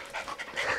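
Excited dogs pant close by in quick, breathy bursts that rise and fall over less than a second.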